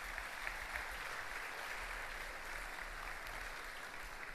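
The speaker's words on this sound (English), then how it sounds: "let's give them a round of applause again," A crowd at a new student orientation claps steadily and loudly throughout, dense sustained applause with no pauses.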